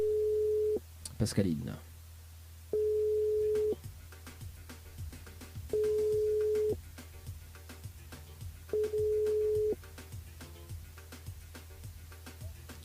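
A telephone line signal on a call to a radio listener, steady tone bursts repeating at regular intervals under a presenter's voice, with faint clicks between the tones.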